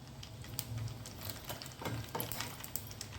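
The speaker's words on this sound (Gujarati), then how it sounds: "અત્યારે હું વઘાર કરું છું તેના માટે મેં તેલ ગરમ કરવા મૂકી દીધું છે" Faint, steady sizzling of asafoetida and mustard seeds tempering in hot oil, with small crackles and pops scattered throughout.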